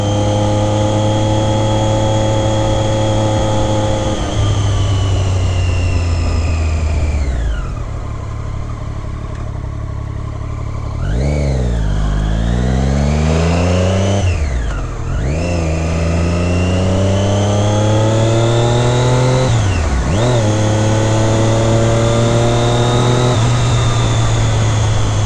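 Triumph Daytona 675 R three-cylinder sport motorcycle engine, steady and close, idling then swooping up through several sharp revs and drops, with a loud high-pitched whine rising and falling.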